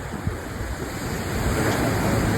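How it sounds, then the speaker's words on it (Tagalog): Strong wind blows by the sea, a constant loud roar buffeting the microphone, with surf and waves mixed into a steady wash and no one talking. "Malakas lang ang hangin dito sa dagat"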